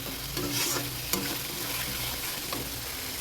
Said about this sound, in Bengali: সমস্ত মশলা দিয়ে কষিয়ে নিচ্ছি